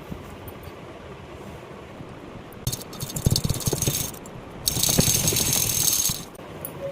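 A sewing machine stitches along both sides of a fabric makeup pouch, running in two short rattling bursts separated by a brief pause, close and fairly loud with no talking.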